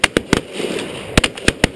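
Loud shotgun blasts go off during a hunt, about seven sharp, close reports fired in two quick bursts.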